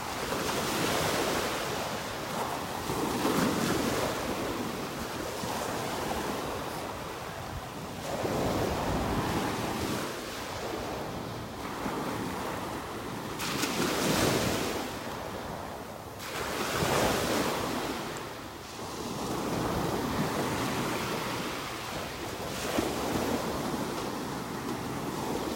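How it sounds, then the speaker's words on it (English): Ocean waves roll and break on a beach in North Naples, Florida, in steady repeating surges every few seconds, mixed with heavy wind buffeting the microphone and no voices. "Water looks nice, just churned up because of the waves"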